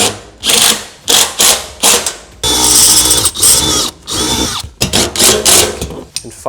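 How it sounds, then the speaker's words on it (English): Power driver sinking 1-inch self-threading screws into the upper side-wing mounting points of a Holman partition in a Ford Transit van, loud close whirring bursts in an uneven series of short and longer runs. "we're gonna use our remaining 1-inch self-threading screws to go into the top locations in our side wings right here"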